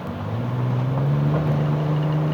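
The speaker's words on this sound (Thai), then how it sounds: "เสียงท่อไอเสียมาเลยฮะ" A Ford Next-Gen Ranger Raptor pickup engine drones loudly in sport mode with a throaty exhaust note, its pitch climbing steadily as it revs, close up with some wind noise.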